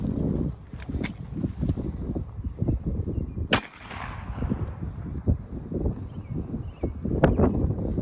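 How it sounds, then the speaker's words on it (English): Pistol shots from a SIG 230 firing 94 grain .380 rounds at a reproduction WW2 German M35 steel helmet, sharp loud cracks repeating irregularly with clatter and outdoor echo between them. "now this is going to be 94 grain 380. out of what? SIG 230."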